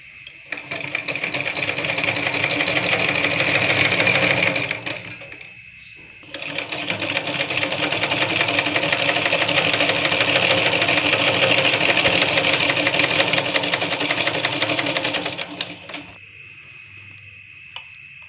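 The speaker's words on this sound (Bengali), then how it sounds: "তারপরে আমি সেলাই দিয়ে নেব।" Sewing machine stitching the hem of a folded lungi, a loud, close, rapid mechanical whir running for several seconds, pausing briefly, then running steadily again before stopping.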